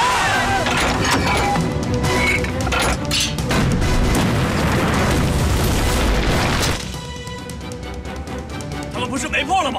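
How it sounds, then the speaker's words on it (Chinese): Real artillery cannons firing in a war drama battle scene, a run of heavy close booms and crashing blasts over a dense rumbling din, easing after several seconds. "以前打都是训练弹，这真炮真是娘的响啊！"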